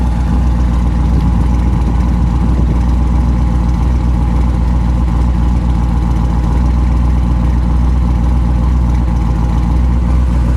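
A 1964 Chevrolet Impala Super Sport with a 327 V8 and dual exhaust without resonators idles loud and close, a steady deep rumble that holds even throughout with no talk over it.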